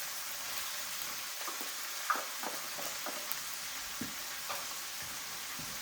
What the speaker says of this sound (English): Right, I'm chuck in my onions.